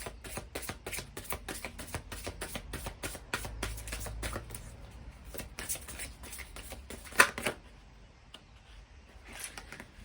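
Tarot cards being shuffled by hand, a rapid train of crisp riffling flicks that thins out into a few scattered snaps and taps, close and fairly quiet, with no talking.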